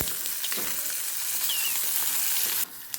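Eggplant frying in hot oil for a Karnataka-style stuffed brinjal curry: a dense, continuous crackling sizzle up close, with a few faint stirring touches and a quieter moment near the end.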